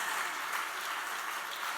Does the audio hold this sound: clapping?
yes